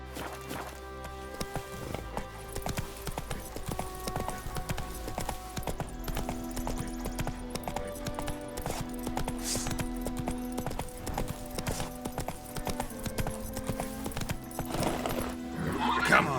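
In The Witcher 3, the horse Roach clip-clops along in a steady hoof rhythm with a whinny partway through, all set under game music and ambience.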